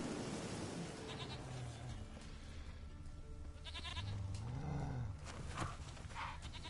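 A goat bleats a few times in The Witcher 3: Wild Hunt, the calls rising and falling in pitch over steady game background noise, moderately near.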